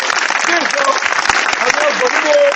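A church congregation claps in a dense, continuous wash of applause, with voices mixed in throughout the short burst.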